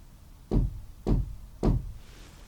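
Three firm knocks on wood inside a farmhouse, evenly spaced about half a second apart, each a sharp close thud with a short ring-out, then quiet.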